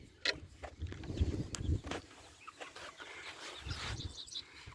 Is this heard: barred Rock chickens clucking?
yes